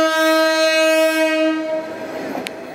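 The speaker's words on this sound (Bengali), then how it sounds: "আজ থেকে ঈদুল আজহা উপলক্ষে ঘরমুখো মানুষের জন্য 20টি স্পেশাল ট্রেন চলাচল শুরু হয়েছে" Passenger train on an Eid-ul-Adha special service in Dhaka, Bangladesh, sounding a loud sustained horn that cuts off after about a second and a half, leaving rumbling rail noise and a brief high squeal.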